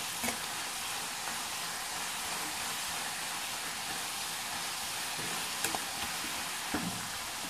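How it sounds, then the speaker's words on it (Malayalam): Jackfruit chips frying in hot oil give a steady, dense sizzle with faint bubbling crackles, continuous and fairly close throughout. "ഇനി നമുക്കിത് നല്ലവണ്ണം ഫ്രൈ ചെയ്തെടുക്കാം. ഇത് പൊരിഞ്ഞു വരുന്നുണ്ട്."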